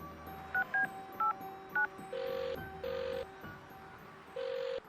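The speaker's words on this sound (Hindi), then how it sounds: "तुम एक बार पूजा को फोन क्यों नहीं कर लेते?" Telephone number being dialed on a keypad in a Hindi audio drama, a series of short beeping tones followed by several longer, evenly spaced electronic tones, clear and alone.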